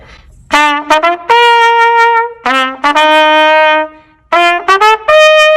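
A trumpet plays a series of bright, brassy notes, some short and tongued, others held, with brief pauses between phrases; close and loud.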